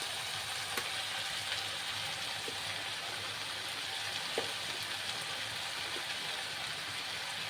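Quiet, continuous crackle from tomato paste and dry spices frying in a pan, faint and even, with a few small ticks and taps scattered through it.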